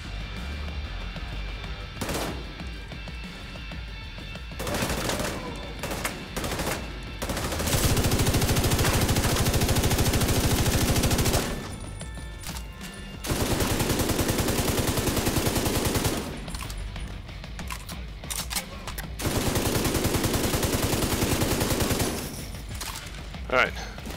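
Sustained automatic gunfire from The Division 2 video game rattles in long bursts separated by quieter gaps, with a voice talking between them.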